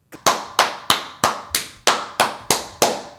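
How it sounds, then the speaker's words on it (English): Nine slow, evenly spaced hand claps, loud and close, each a sharp smack with a brief decay, alone with no talk. "Why are you clapping for?"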